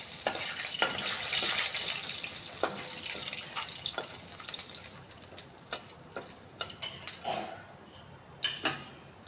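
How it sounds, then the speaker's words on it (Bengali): Whole garam masala, cloves, cardamom, two dried red chillies, a bay leaf and black pepper sizzling in hot oil, a steady close fizz that fades as sharp clicks and taps of stirring grow louder. "চিকেনগুলো ভেজে তুলে নিয়ে আমি আরও একটু তেল অ্যাড করে বাকি যে গোটা গরম মশলাগুলো আমি দিয়ে দিচ্ছি।"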